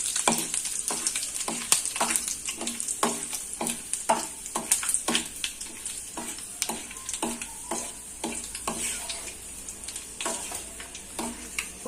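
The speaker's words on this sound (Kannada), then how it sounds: "ಕಡಲೆಬೇಳೆ ಬ್ರೌನ್ ಕಲರ್ ಬರಬೇಕು" Chana dal sizzling in hot oil while being fried until brown for tamarind chitranna, a steady crackling fry broken by regular scraping stir strokes of a spatula, close and fairly quiet.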